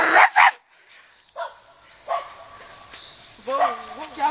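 A person imitates a dog's bark with short voiced woofs among other vocal sounds, loud and close, with a few separate bursts.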